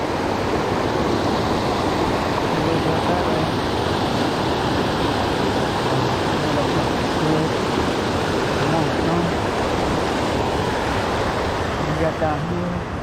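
Rushing water of Gilliland Creek swollen after rain, a steady broadband wash that fills the whole clip, with faint low voices murmuring underneath.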